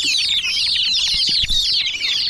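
Turkeys cluck and chatter continuously inside a newly upgraded backyard cage, their high clustered calls close and steady, with occasional soft thumps of movement beneath.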